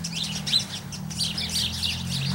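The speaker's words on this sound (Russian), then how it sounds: "Да, это воробьи." Sparrows chirp outdoors in Chicago, a busy flurry of short bright tweets overlapping continuously, close and fairly loud over a low steady hum of background noise.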